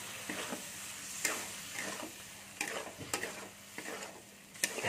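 Fried potato and ridge gourd are stirred together in a pan for sukto, with rhythmic scraping strokes and clinks of a spatula over a low sizzle, close and moderately quiet.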